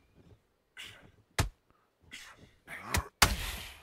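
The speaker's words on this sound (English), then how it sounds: "big power shot" Punches land in the boxing video game Undisputed, several sharp thuds and heavier impacts in quick irregular succession, the last a loud power shot with crowd-like noise behind it.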